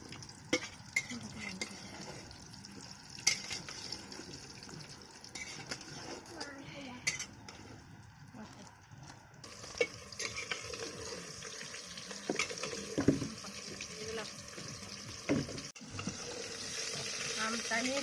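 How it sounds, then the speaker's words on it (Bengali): Mango pieces dropped into hot oil for a sweet mango pickle, with a soft sizzle under clinking and scraping of a utensil against the pan, faint and close, with brief water and stirring noises. "আমি আমগুলো দিয়ে দিচ্ছি তেলের মধ্যে।"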